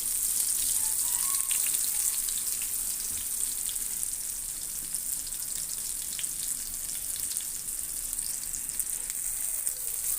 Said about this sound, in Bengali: আমার বেগুন ভাজাগুলো হয়ে এসেছে